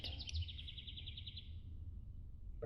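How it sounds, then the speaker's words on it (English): Morning birdsong heard from bed on a bike-packing trip, a quick trilled chirping phrase that fades out, faint and distant over low background rumble. "Just laying in bed listening to the birds."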